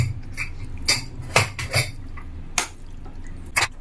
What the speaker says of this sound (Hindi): तो करते हैं मिक्स।